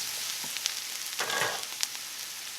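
Mushrooms sizzle steadily in a hot pan, a close, even hiss of frying with a few soft stirring clicks and pops, and no voices.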